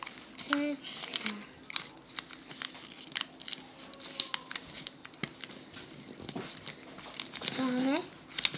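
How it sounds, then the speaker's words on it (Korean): Paper is folded into an origami model of a sea mini car, with soft crinkles, creases and taps scattered throughout while a person talks over it. "이렇게 가운데 선에 맞춰서 접어주세요."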